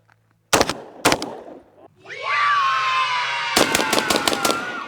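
A Savage Model 720 semi-automatic shotgun fires at clay targets outdoors, two sharp close shots followed after a pause by a quick burst of several rapid blasts, with a rising engine-like whine running underneath the later shots.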